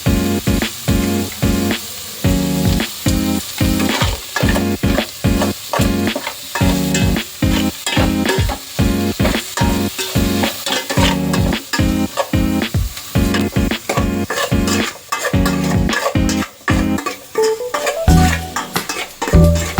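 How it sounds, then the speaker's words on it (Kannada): Chicken frying in a pan gives a loud, close sizzle broken by repeated rhythmic scraping strokes of a stirring utensil against the pan, with no voices. "ಸ್ವಲ್ಪ ಚೆನ್ನಾಗಿ ಫ್ರೈ ಆಗಲಿ."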